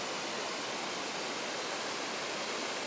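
A waterfall at Hug Point on the Oregon coast spills down onto the beach into the ocean, a constant broad rushing wash, steady and moderately loud with no breaks.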